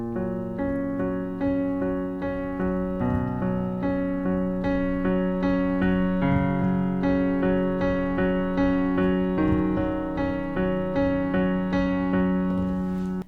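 A piano played low on the keyboard gives a rich, deep sound, with steady repeated chords and notes sounding in an even rhythm, ringing and sustained, with no talking.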